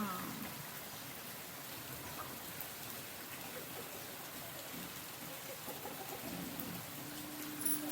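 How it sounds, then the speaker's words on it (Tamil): Steady heavy monsoon rainfall on Diwali patters continuously at a moderate, distant level, with a faint bird or chicken call briefly audible in the background. "சூப்பராக மழை பெய்யுது."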